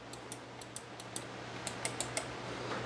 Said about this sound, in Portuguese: Esse aqui é o clique do mouse.